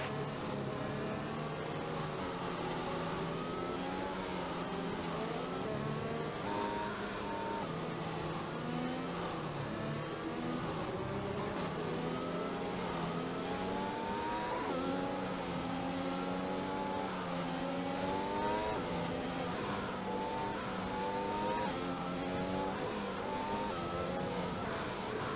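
Race cars in the F1 2021 video game accelerate away from behind the safety car at the Austrian circuit, a dense, continuous layered engine roar with rising revs from many cars, steady and loud throughout.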